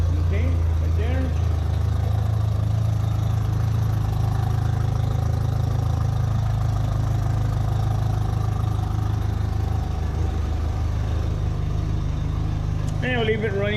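A boat outboard motor idles steadily with a low, even rumble that holds for the whole stretch, with a faint voice at the start and end.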